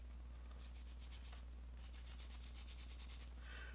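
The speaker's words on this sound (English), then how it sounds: "Alright, sanding. I have some of this sandpaper right here. This is 320." Fine 320-grit sandpaper rubbing over a small die-cast TootsieToy Fiat Abarth model car, a quiet, steady scratchy rasp in repeated back-and-forth strokes under a low constant hum.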